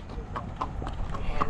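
Horse hooves clip-clop in an uneven walking rhythm during a horseback ride in Clark, Pampanga, with soft people talking underneath.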